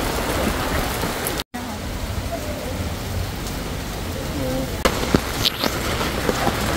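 Steady hiss of rain falling on surfaces in Binondo, Manila, with a few sharper knocks and faint voices in the background.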